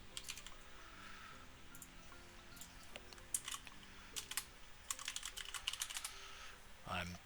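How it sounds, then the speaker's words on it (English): Quiet computer keyboard typing in uneven bursts of close, crisp key clicks over a low hum, with a louder thump near the end and soft talk in places. "When you hear me typing, I'm checking the wiki."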